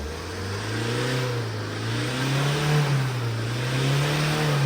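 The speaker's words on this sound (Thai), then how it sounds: "มาลองติดเครื่องดูว่าติดง่ายไหม อ่าสตาร์ตติดง่ายแล้วนะเบิ้ล" A Tata diesel engine runs after an injector repair, a close, loud low rumble that rises and falls as the throttle is blipped gently.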